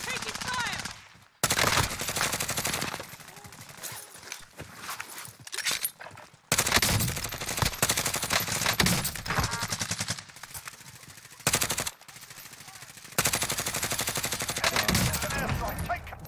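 Bursts of automatic gunfire and rapid shots in the video game Call of Duty Warzone, in a fight on a mountain. Loud sustained volleys are broken by a few short gaps, with players talking over them.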